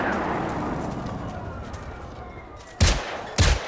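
Two loud, close gunshots ring out in quick succession from Generation Zero, following a few seconds of steady ambient rumble.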